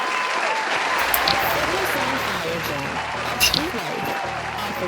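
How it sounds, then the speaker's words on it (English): A live audience applauds dancers at a talk-show taping, a steady dense wash of clapping filling the whole stretch, with a voice or two breaking through near the middle. "Let's give them a round of applause again."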